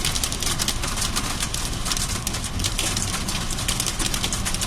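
Hailstones falling with heavy rain in Dubai, a dense, loud, continuous patter and rattle of many impacts with no break.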